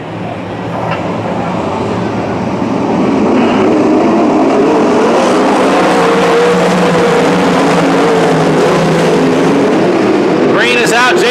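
360 sprint cars race at Petaluma Speedway. The loud engine roar builds over the first few seconds and then holds as a dense, continuous drone as the cars come off a turn.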